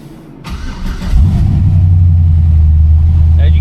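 A 1984 Chevrolet Caprice with a built, loud engine starts up: a short cranking, then it catches and settles into a deep, steady, rumbling idle close by.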